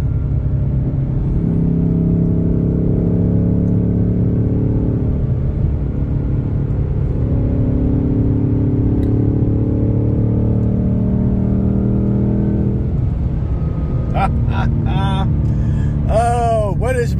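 A Dark Horse car's engine rumbles loudly up close, climbing and dropping in pitch at each shift point with short burps between gears. A voice speaks briefly near the end.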